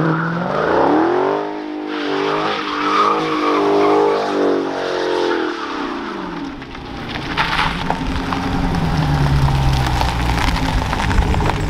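Street cars including a Chevy, a Mustang and a Hellcat race past close by, with high engine revs rising and falling, loud acceleration, tire squeal and a roaring pass-by, and no talking.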